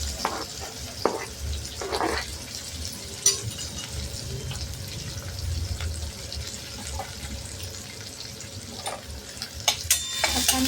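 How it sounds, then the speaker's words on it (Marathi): Chopped onion sautés in a pan with cumin and curry leaves, giving a soft, steady frying hiss broken by occasional stirring scrapes and clinks. "आणि आता कापलेला कांदा आपण परतून घेणार आहोत."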